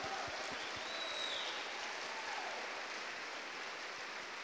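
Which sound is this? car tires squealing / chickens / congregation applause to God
congregation applause to God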